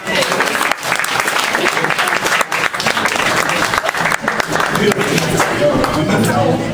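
A loud, continuous round of applause from an audience, a dense roar of many hands clapping with no pauses, filling the whole stretch at full volume.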